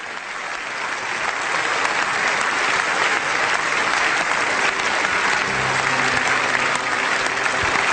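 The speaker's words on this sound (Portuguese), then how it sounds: "Participamos também nós dessas palmas do parlamento" The German parliament, standing, applauds Pope Benedict XVI after his speech, a sustained roar of clapping from a large hall that swells slightly and stays loud throughout.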